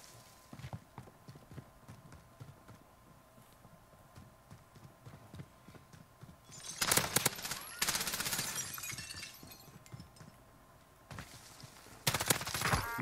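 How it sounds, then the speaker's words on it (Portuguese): Bursts of rapid gunfire in Call of Duty Warzone with an M13 rifle, loud and dense around the middle and again at the end, over quieter in-game background sound. "cadê o cara que tá atirando, velho?"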